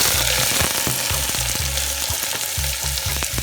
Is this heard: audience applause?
no